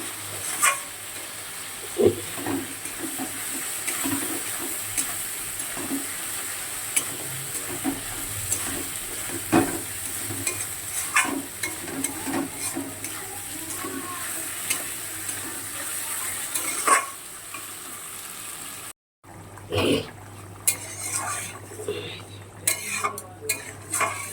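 A potato and fish curry with turmeric and green chili paste sautés in a pan, giving a low sizzle under repeated spoon scrapes and clinks against metal, then a brief cut and more stirring.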